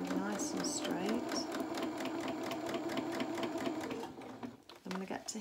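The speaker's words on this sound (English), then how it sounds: "And I'm just going to sew nice and straight." A domestic sewing machine runs a straight seam on small fabric boxer shorts for a toy rabbit, its fast, even needle clatter steady for about four seconds and then slowing to a few stuttering stitches while someone speaks over it.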